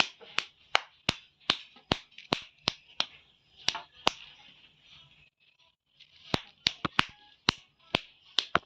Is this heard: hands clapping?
yes